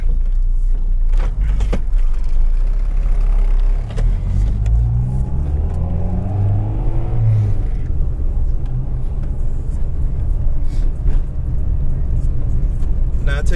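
An Integra rides along with steady low interior road rumble and engine drone throughout, some rising engine tones mid-ride, as people talk inside the cabin.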